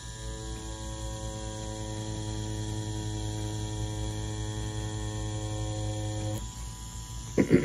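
Tattoo machine fitted with a round liner needle gives a steady, close electric buzz, a constant harmonic drone held for about six seconds before it cuts off, followed by a few faint knocks.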